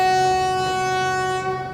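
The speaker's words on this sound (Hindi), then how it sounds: "अपना लोकोमोटिव बहुत ही आगे है, तो कमाल का हॉन्क वगैरह सुनाई दे रहा है" Locomotive horn of the LHB Tatanagar–Thawe Express, a sustained steady tonal blast held for the whole moment, heard from inside the train with the locomotive far ahead and slightly distant.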